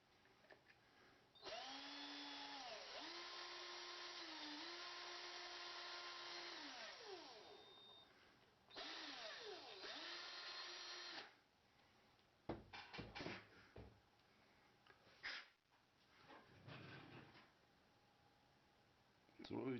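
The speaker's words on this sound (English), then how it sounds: "we're going to take this piece of brass and this drill" A power drill whines in long bursts that rise and dip as it bites into a brass .303 cartridge case, enlarging the flash hole, then stops; quieter scraping and handling noises follow.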